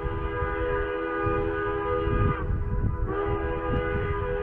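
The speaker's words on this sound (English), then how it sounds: "You can actually take this train." A train in the mountain town of Silverton, Colorado, sounds a sustained multi-tone horn over a low rumble, with a brief break in the tone midway.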